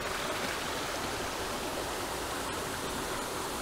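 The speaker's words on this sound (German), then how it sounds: "Und jetzt stehen wir hier unten vor dem Wasserfall." A mountain waterfall on Koh Samui pours steadily, heard up close from its base as a constant, even hiss and rush of falling water with no voices.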